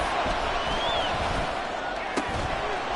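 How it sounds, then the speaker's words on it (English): Crowd noise in a football video game: a steady, dense roar of spectators that fills the background throughout, with a brief thud partway through. "Crowd getting in it a bit already."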